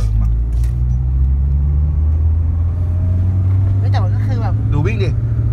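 Modified Mitsubishi Evo engine idling close by at a Thai car shop: a steady, deep low rumble throughout, with people talking over it.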